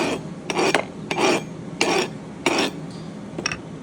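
Metal file rasping across a hardened steel excavator thumb bushing in about six short, separate strokes, each a brief gritty scrape, close and fairly quiet with pauses between.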